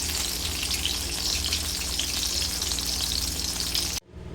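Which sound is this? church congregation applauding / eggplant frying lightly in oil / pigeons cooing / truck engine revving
eggplant frying lightly in oil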